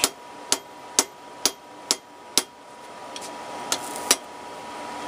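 A blacksmith hammers hot metal to upset and thicken the end of a bar for door pulls, about nine sharp ringing blows in an even rhythm, close and clear, with the last few strikes lighter.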